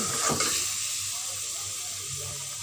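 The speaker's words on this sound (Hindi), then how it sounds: "अब मैं इसमें पानी शामिल करूँगी।" Water is poured into a cooking pot of fried chicken for a tomato chicken karahi. A short splashing rush comes first, then a steady hiss and sizzle continues near and fairly quiet.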